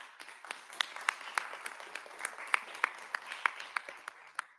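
A small audience at a Ghana Independence Day arts event claps in scattered, distinct hand claps that rise and fall in an irregular rhythm, moderately close and fairly light.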